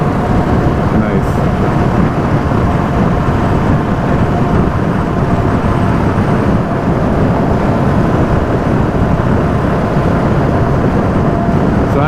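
A Husqvarna 701 Enduro motorcycle accelerates hard in sixth gear at around 60 mph, a loud, steady engine roar blended with rushing wind that holds throughout without a break.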